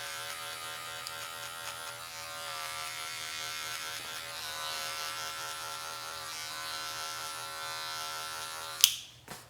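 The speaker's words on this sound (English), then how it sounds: "I can go in with the clipper as well. Again, I have my number 1 open and slowly just flicking it right in here." Electric hair clipper fitted with a number 1 guard trimming hair during a home haircut, a steady close buzzing hum running continuously with slight shifts as it passes over the head, ending with a brief click.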